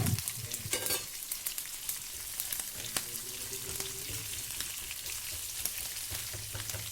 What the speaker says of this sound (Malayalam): ഇനി ഇതും ഈ ഓയിലിൽ കിടന്നിട്ട് ഒന്ന് നന്നായിട്ട് സോട്ട് ചെയ്ത് വരട്ടെ.